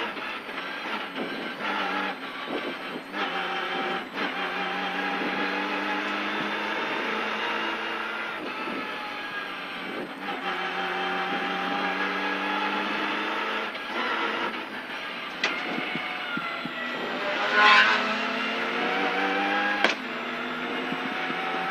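Opel Adam R2 rally car on a stage of the Rallye du Var, its engine note climbing and shifting steadily as it approaches and passes, with a sharp peak near the end.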